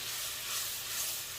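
Garlic sizzling in about a pound of melted butter over a medium flame for a seafood boil sauce, a steady bright hiss close up with no talk.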